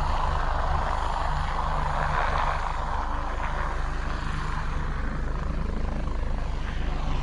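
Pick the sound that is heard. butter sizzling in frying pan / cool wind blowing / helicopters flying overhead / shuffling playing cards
helicopters flying overhead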